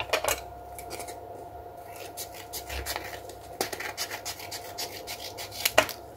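Scissors snip through crafting paper for a vintage ATC card, a handful of crisp, close cuts and rustling handling sounds at a quiet level, no talking.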